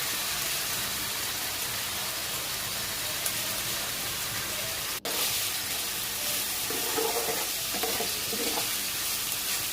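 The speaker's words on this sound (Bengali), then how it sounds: "চিংড়ি মাছগুলো দেওয়ার পর কিছুক্ষণ খুব সুন্দর করে ভাজতে হবে, মানে কষাতে হবে আর কি।" Shrimp frying in a pan with spices for a kachur loti curry, a continuous close sizzle with stirring scrapes and a sharp knock partway through.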